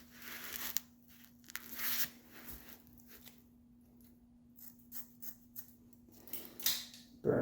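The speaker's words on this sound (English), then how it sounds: "Here are my scissors." Scissors cutting material while working on an e-bike, faint crisp snips and rustling at close range over a steady low hum.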